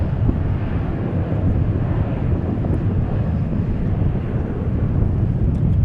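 An Alaska Airlines airliner landing at DFW airport after a flight from San Diego, heard as a steady broad rumble of jet noise mixed with wind buffeting on the microphone, continuous and fairly loud throughout with no talking.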